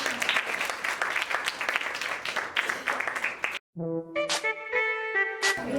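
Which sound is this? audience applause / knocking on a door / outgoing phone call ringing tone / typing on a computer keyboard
audience applause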